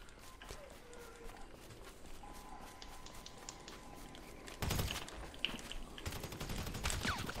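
Gunfire in GTA Online: faint rapid shots and crackling bursts over a quiet game background, growing denser and louder toward the end.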